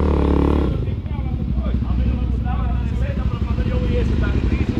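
A Suzuki DR-Z 400 SM supermoto's single-cylinder engine thumps and idles close by, with a fast, steady low pulsing after a louder opening burst, while people chat in the background.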